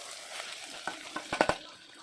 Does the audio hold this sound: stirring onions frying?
yes